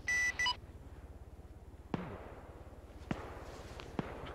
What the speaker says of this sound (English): Do you want me to put a little burst of cannon on it?